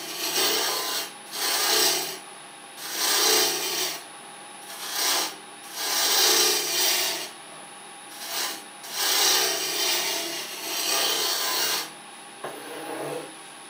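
Milk pear wood spinning on a lathe as a gouge roughs it into a cylinder, giving repeated rasping cutting bursts of about a second each in a steady rhythm, close and moderately loud with no talk.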